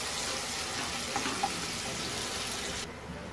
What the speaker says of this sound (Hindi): प्याज डालेंगे। गैस मीडियम फ्लेम पे ही रखा है हमने, प्याज को थोड़ी सी ब्राउन कर लेंगे।